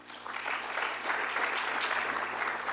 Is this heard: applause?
yes